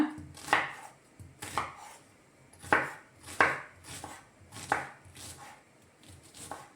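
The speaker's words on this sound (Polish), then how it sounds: "cebulę kroję w kosteczkę" A knife dices an onion on a board, about seven crisp, evenly spaced cuts, close up with no voices.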